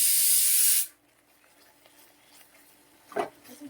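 A pressure cooker whistle cooking kabuli chana curry: a loud hissing burst of steam sprays for under a second and cuts off abruptly, followed by quiet and a brief soft thump.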